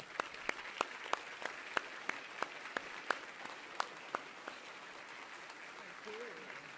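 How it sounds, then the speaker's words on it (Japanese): Scattered, sharp hand claps ring out at a steady rhythm, thin rather than a full roar of applause, from the audience at a seminar in Japan, then fade into a quieter room. "なのでこの2人に大きな拍手。"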